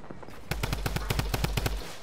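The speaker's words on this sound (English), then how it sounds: "I'm being shot from the guys in the hills." Rapid bursts of automatic gunfire from enemies in a Fortnite battle royale match, a tight string of about a dozen sharp shots lasting over a second, loud and close.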